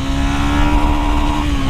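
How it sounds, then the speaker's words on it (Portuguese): A 2024 Sahara 300 motorcycle engine held at the rev limiter in second gear, giving a loud, close, sustained high-pitched drone that holds nearly steady for the full stretch, with no voices. "Uma de segundinha cortando de giro."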